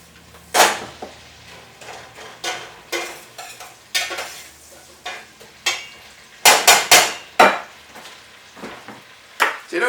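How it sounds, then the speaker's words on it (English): Onions and potatoes for pumpkin soup are stirred in a frying pan. A spoon scrapes and clatters against the pan in repeated close, uneven bursts over a faint sizzle. "You want to fry your onions a bit, because fried onions are always good, right?"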